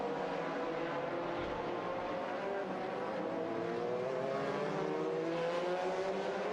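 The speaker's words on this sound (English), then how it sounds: "Number 12 car coming in." A GT race car from the 2005 FIA GT Championship in Bahrain, the number 12 car shared by three drivers, pulls into the pits with a steady engine drone and a rising rev note, continuous and fairly loud.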